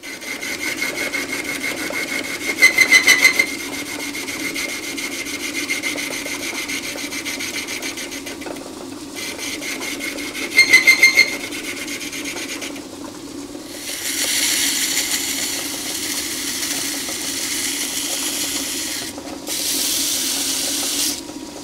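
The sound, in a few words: 1931 South Bend lathe undercutting threads on a faceplate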